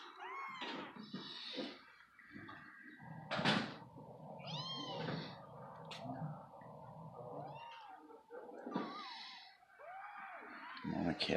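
A cat, indoors near a closet, lets out several meows and hisses in short bursts, close and fairly loud, mixed with people talking and some knocking or rustling.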